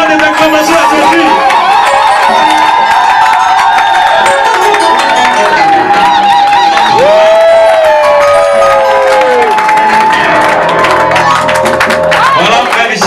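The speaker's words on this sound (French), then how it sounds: "Si c'est la vérité, donnons des acclamations à Jésus." A church congregation cheers and shouts loud acclamations for about thirteen seconds, a dense roar of voices with whoops and a long sustained cry rising above the crowd.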